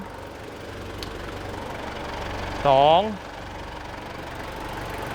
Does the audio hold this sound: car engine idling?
yes